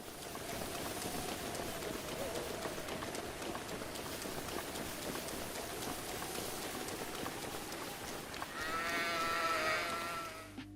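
Steady rain patter throughout, with a sheep bleating near the end, its harmonic cries rising over the rainfall, in the video game Breath of the Wild.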